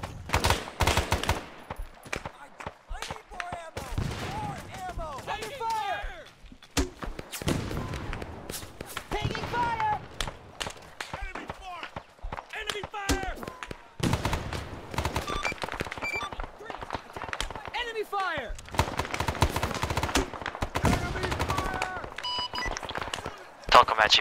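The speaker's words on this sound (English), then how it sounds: "We got fire! Enemy fire! Taking fire!" Video game battle gunfire: scattered rapid shots and bursts crackle throughout under frequent shouted voices and radio-style chatter, mixed with footsteps and movement noise.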